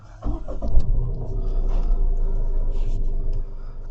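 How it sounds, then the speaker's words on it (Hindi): A car engine cranks and catches close by, settling into a steady low idle rumble inside the cabin of a compact car. "so if we start the car once"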